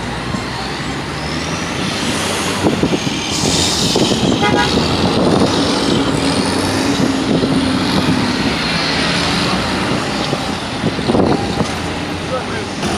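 Dense road traffic, trucks and trailers included, on a flyover and a ramp along Hagley Park Road, with a loud steady roar, passing vehicles and a horn toot, while someone talks over it.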